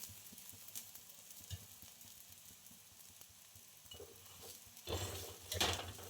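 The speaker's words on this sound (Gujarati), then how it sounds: "આ રીતે દબાવીને આપણે શેકી લેવાનું સરસ રીતે" Besan pudla, a Gujarati chickpea-flour pancake, fries in oil on a griddle with a steady, soft sizzle, briefly louder near the end as it is pressed and turned.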